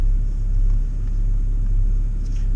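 Volkswagen Corrado driven on a spirited run, a steady low engine and road rumble heard from inside the car, loud and even for a few seconds with no talk.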